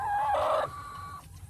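Chickens cluck close by on a farm, with a short rooster-like crow in a quick, fairly loud burst that fades within a second and a half.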